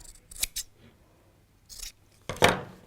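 Scissors snip into fabric at the point of a sewn heart, with a couple of quick close cuts, a softer snip, then a louder final crunching cut, crisp and near with quiet gaps between.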